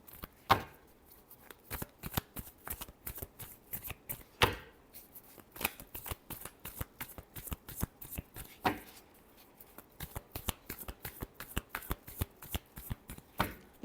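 Tarot cards are shuffled by hand at close range, a long run of quick, crisp riffling slaps and flicks with uneven rhythm and occasional louder snaps, with no talk over them.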